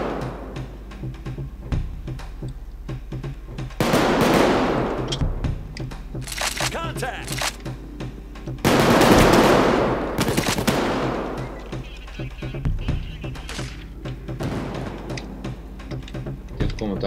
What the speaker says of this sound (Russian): Пулемет, конечно, подавляет сильно, но точность у него